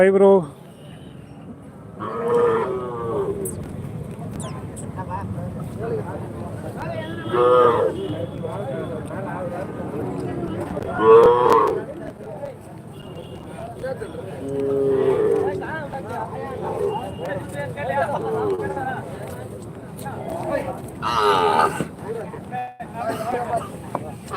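Cattle and calves low and bleat at intervals amid a busy crowd at the Tiruvannamalai Deepam cattle market, with people talking loudly nearby and a faint horn in the background.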